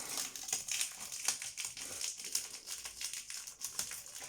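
Plastic packaging on a scrapbooking paper kit crinkles and crackles as it is opened by hand, producing close, irregular bursts of rustling that continue throughout at a moderate level.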